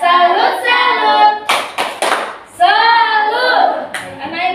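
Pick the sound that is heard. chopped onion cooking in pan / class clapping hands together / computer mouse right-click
class clapping hands together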